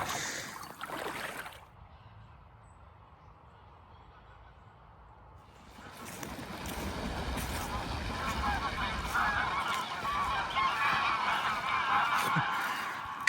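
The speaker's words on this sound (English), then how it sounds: "Cormorants, geese, ducks" Geese honk at a lake with cormorants and ducks about: a burst of calls at the start, a quiet lull, then a long, busy stretch of overlapping honking and water-bird chatter at moderate distance.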